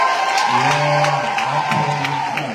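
An audience at a live gospel concert in Albany, Georgia, claps and cheers in a dense burst, with a voice heard over the applause.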